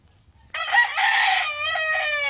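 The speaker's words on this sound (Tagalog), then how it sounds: "Ayan ang manok." A rooster crows once before dawn, a loud drawn-out call close by, preceded by a faint chirp in an otherwise quiet setting.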